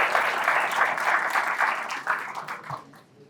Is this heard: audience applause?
yes